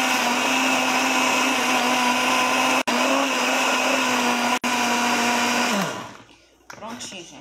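A blender whirs steadily at a high, constant pitch for several seconds, then winds down and stops, followed by faint clattering.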